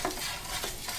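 Homemade slime of water and glue being stirred in a bowl, a steady wet swishing and scraping close up, continuous throughout with no talking.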